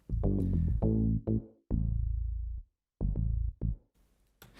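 A deep DX7 synth bass line plays alone in sustained and short notes, thick and warm, ending with a brief pause and some light hiss.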